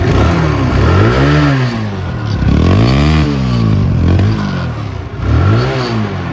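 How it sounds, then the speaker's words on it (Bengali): A modified TVS Apache RTR 150 cc motorcycle (2017 model) runs close by and revs up and down in three swelling surges, loud and alone with no voices. "এটা হচ্ছে গাড়ির দেখেন ইঞ্জিনের সাউন্ড"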